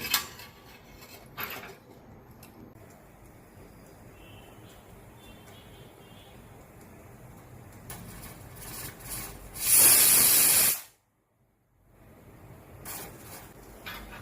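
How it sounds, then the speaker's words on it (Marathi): A pressure cooker on the stove cooking healthy jowar khichadi with potato lets off a sharp, loud burst of hissing steam that cuts off abruptly, after quieter kitchen noises. "आता कुकरच्या तीन शिट्या झाल्या आहेत"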